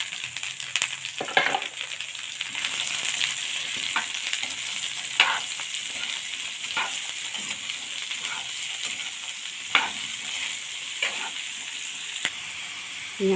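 Papaya fries in a pan, a steady close sizzle and hiss broken by occasional scraping stirs and soft clinks, with no talking.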